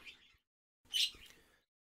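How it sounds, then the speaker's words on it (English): Short bursts of bright bird chirps and tweets from a Pokémon Scarlet and Violet video game trailer, two quick phrases separated by a brief silence, fairly close and clear. "Hopefully the birds aren't annoying."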